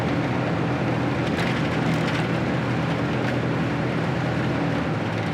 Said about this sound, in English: It's a 1970 van, so there's a little bit of road noise going on